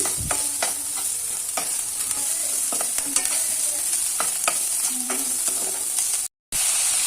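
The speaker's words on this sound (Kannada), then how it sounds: "ಹೆಚ್ಚಿಟ್ಕೊಂಡಿರುವಂಥ ಈರುಳ್ಳಿನ ಹಾಕಿ ಚೆನ್ನಾಗಿ ಫ್ರೈ ಮಾಡ್ಕೊಳ್ಬೇಕು" Chopped onions fry in a pan with ginger-garlic paste and curry leaves, a steady close sizzle with spatula scrapes and stirring clinks, cut by a brief dropout near the end.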